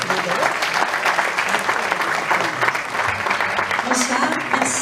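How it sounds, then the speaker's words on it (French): Audience applause at a 2022 sports awards evening in Barentin, a dense steady wash of clapping filling the hall throughout, with faint voices mixed in underneath. "On peut applaudir bien fort Mélissa."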